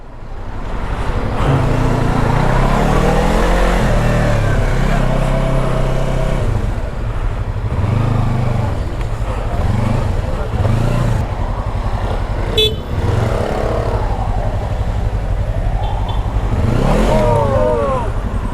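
Dense road traffic surrounds a rider on a Yamaha R25 motorcycle, with engine drone, passing vehicles, revving and several car horn toots throughout, loud and close, while someone talks over it.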